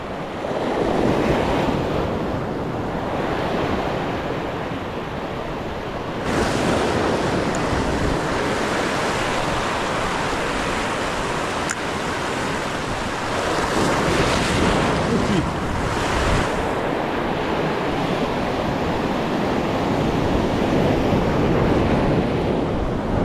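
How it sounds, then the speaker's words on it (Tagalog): Ocean surf at the shore with the tide rising, waves washing in continuous roaring surges that swell and ease every few seconds, mixed with heavy wind buffeting the microphone. "Yung dagat pala mga master, pa pa high tide."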